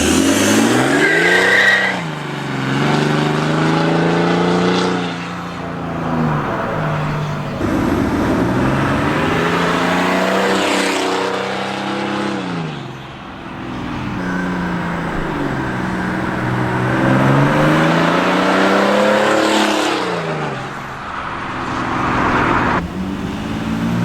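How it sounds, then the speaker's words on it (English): A straight-piped turbo diesel Mercedes revs hard through repeated drive-bys, its loud, raspy exhaust rising and falling as the car approaches and passes, with turbo whine in between passes. "let's go do some drive-bys, see what this thing sounds like blasting away"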